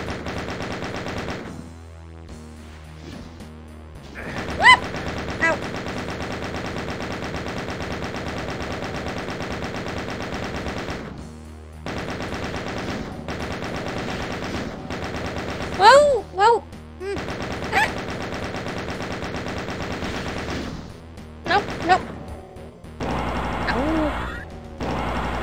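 Bursts of machine gun fire from a video game rattle in long sustained stretches broken by short gaps, loud and close, with some impacts mixed in and a voice talking at times.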